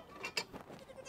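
Bigger goats on a homestead give a brief, quiet bleat-like call near the start, surrounded by faint background rustle.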